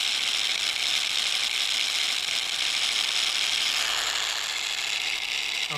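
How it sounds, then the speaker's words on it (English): A steady buzzing, high-pitched mechanical whir from a vintage Allover Star electric hair clipper running continuously at full power at close range, with no speech. "This is at full power. This is what this clipper sounds like."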